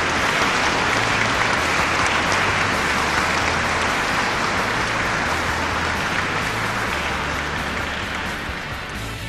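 Dense, continuous ovation from a large audience for Sachin Tendulkar at his Bharat Ratna award ceremony, steady thick clapping that eases slightly toward the end.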